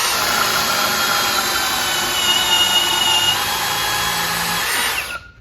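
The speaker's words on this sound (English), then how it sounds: "first hole with the Diablo self-feeding auger bit" Power drill driving a Diablo self-feeding auger bit through wood, a loud continuous high whine close up that holds steady for about five seconds before cutting off sharply.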